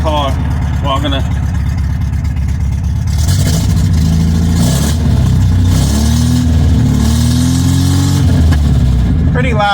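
An MGB four-cylinder engine with its exhaust deleted, idling and then revving in repeated loud blips, harsh and close with a rough, rasping exhaust note.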